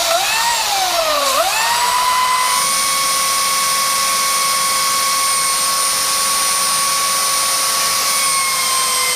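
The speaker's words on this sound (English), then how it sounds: "I'm going to start sanding." A power sander whines loudly and continuously on rusty metal brackets, its pitch dipping sharply at the start before holding a steady high-pitched drone throughout.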